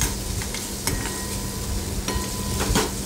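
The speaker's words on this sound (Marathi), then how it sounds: "आपण परतून घेणार आहोत तेलामध्ये" Spices sauté in hot oil for a green bean stir-fry, a low background sizzle broken by a few spatula scrapes and taps on the pan, close and moderate in level, no talking.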